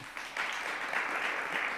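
A summit audience gives a round of applause for Ramya, a dense steady patter of many hands clapping that swells after a brief quieter start and carries on evenly.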